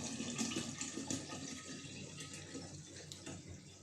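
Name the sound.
water poured into a container for pomegranate vinegar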